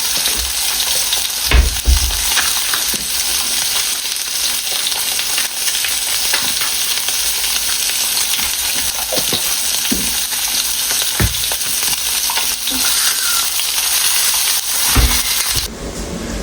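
Fish fries in a pan with a loud, continuous sizzle and crackle that runs steadily throughout, broken by a few low bumps and clatters.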